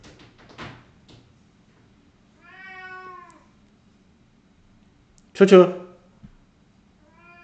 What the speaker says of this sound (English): I don't know if you guys can hear my cat meowing over there.